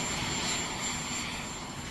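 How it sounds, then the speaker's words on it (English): Marine One, the presidential helicopter, drones steadily on an airport tarmac, a loud, continuous broadband rotor and engine roar that stays even and close throughout. "That's the president's chopper."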